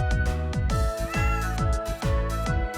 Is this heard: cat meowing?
yes